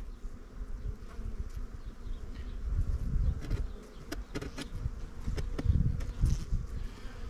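Steady buzzing of Italian Cordovan honey bees from a colony just after wintering, close by, with individual bees droning louder as they fly near; no talking.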